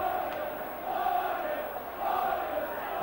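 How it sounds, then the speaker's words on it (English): Rugby league crowd at a Leeds v Hunslet Yorkshire Cup match in 1992, a distant, continuous roar of cheering that swells and ebbs in waves across the stadium. "The crowd behind Leeds now"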